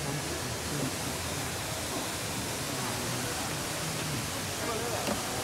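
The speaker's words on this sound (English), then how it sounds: "in the airport they have the world's biggest indoor waterfall" The world's biggest indoor waterfall at a Singapore airport roars as a constant, broadband rush of falling water, loud and unbroken from start to finish.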